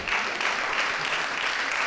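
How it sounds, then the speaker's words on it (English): A stand-up comedy audience claps, a fairly loud, dense patter of many hands that stays even throughout the brief moment, with no talking on top. "Fuck the audience clap y'all giving me right now"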